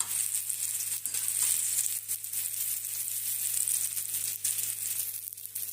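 Homemade frozen kebabs frying in a pan give off a steady, dense, close sizzle that runs unbroken throughout, over a faint low hum, with no voices.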